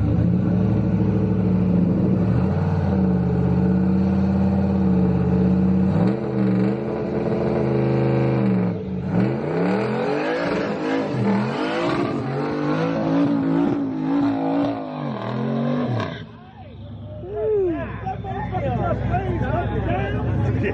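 Big-rim cars street racing in Chicago, their engines revving hard with rising and falling whines and roars, loud and close, over the murmur of a shouting crowd.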